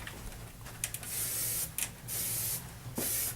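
Hair styling spray hisses from an aerosol can in several bursts of varying length, close and loud, with short pauses between sprays.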